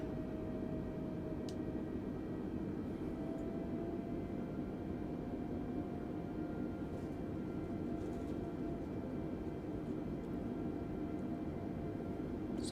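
Simulated Airbus A320neo of TAP Air Portugal taxiing off the runway at low power in Microsoft Flight Simulator 2020, a steady quiet engine hum and broadband whine with faint tonal lines, unchanging throughout.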